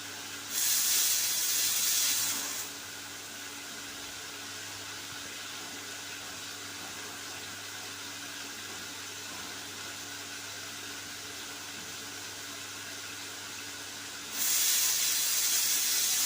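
A pressure cooker whistles while dal cooks in a home kitchen, a loud steady hiss of venting steam that opens with a short burst, holds for about twelve seconds, then surges again at the close.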